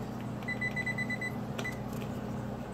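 A kitchen oven timer gives a quick run of high, thin electronic beeps while being set for baking cupcakes, followed by a few softer button presses, close and clear over a faint room hum.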